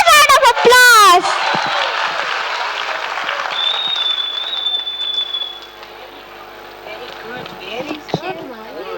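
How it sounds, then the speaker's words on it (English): Audience applause at a school annual show, a loud burst of clapping and cheering at the start that settles into a steadier crowd murmur with a high whistle-like tone, with voices under it. "Give them a huge round of applause."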